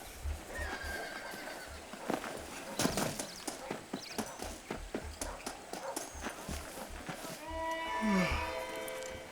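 Horse hooves clip-clop in a steady walking rhythm while riding in the video game Red Dead Redemption, with a loud whinny and snort near the end; close and clear over a low game ambience.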